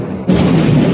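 Heavy battleship naval guns fire in a war film, a single deep booming blast that swells suddenly and rumbles on loudly with no voices over it.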